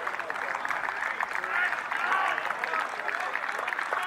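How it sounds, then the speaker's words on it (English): Crowd applause at an amateur football match between Newent Town and Cheltenham Saracens, greeting a substituted player as he leaves the pitch; steady, even clapping from a modest crowd that goes on throughout without letting up. "And a good round of applause for him."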